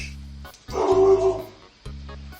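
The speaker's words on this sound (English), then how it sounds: "dog going apeshit" A dog yips and whimpers in a few short, agitated bursts, close by and fairly loud, with brief pauses between the outbursts.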